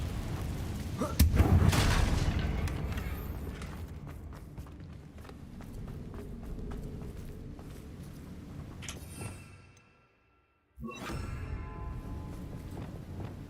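A Confringo explosion spell cast in Hogwarts Legacy lands as a loud burst early on, then debris and ambient clatter that trails off into a brief silence before game sounds resume.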